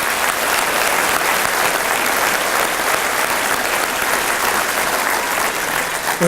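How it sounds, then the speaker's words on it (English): An audience at an annual meeting gives a round of applause, a dense, steady clapping that fills the room and holds evenly for several seconds. "please give those two gentlemen a round of applause"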